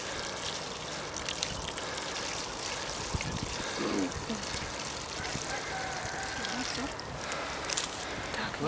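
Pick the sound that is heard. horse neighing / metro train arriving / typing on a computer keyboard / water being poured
water being poured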